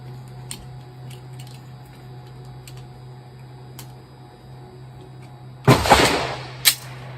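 Two sharp gunshots ring out near the end while a Vortex Venom red dot sight is being zeroed at a range, the first one loud and followed by a short tail, after a quiet stretch of hum and faint ticking.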